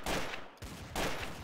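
Rapid video game gunfire rattles in two dense bursts separated by a brief gap, loud and sustained with no talking.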